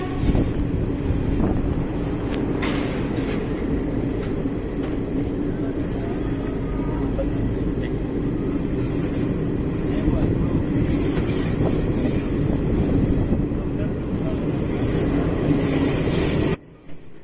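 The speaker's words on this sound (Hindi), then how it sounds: "यहाँ पर हमारी ट्रेन ने करीबन 10:45 पे गाज़ियाबाद को स्किप किया" The Garib Rath express runs through Ghaziabad without stopping, heard from on board as a loud, steady rumble with rattling carriages, clattering wheels and occasional high squeals that continue unbroken until the noise drops off abruptly near the end.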